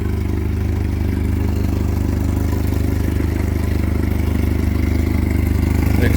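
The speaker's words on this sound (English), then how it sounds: "The exhaust is out of the water. That's why it's loud right now." A 2016 Honda 115 hp inline four-cylinder EFI four-stroke outboard running with its exhaust out of the water, a loud, steady, close droning idle with a rapid mechanical pulse throughout.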